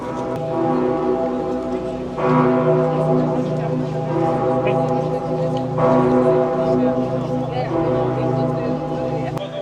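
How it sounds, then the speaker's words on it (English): The bells of Cologne Cathedral ring continuously and loudly, a steady layered peal with renewed strikes every few seconds, with a voice speaking over it. "the bells have been ringing for probably 5 minutes already"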